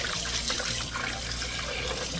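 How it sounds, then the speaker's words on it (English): Water runs from a kitchen tap as potatoes are washed under it, a steady close hiss and splash that continues unbroken for a couple of seconds. "Turn our water on. Wash those up."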